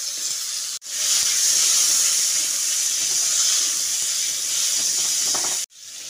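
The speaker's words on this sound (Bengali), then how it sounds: "তারপর ওই তেলের মধ্যে 2টো মিডিয়াম সাইজের আলু লম্বা করে কুচিয়ে দিয়ে দিচ্ছি" Two medium potatoes cut into long strips frying in hot oil, giving a loud, steady hiss and sizzle that fills the clip, with brief dips near the start and end.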